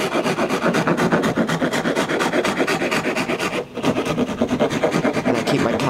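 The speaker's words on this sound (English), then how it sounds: "once I start hitting it with the rasp, it peels back" Steel rasp filing and carving a wooden guitar neck by hand, a steady run of close, loud rasping strokes in quick rhythm with one short pause partway through.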